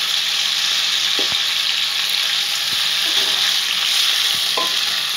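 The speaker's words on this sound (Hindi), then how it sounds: "चिकन को अच्छे से भून लेंगे" Chicken pieces are being fried in oil with whole spices in a pan for a chicken karhi, making a loud, continuous sizzle broken by several scrapes and knocks of the stirring spoon against the pan.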